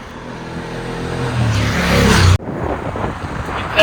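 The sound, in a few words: car driving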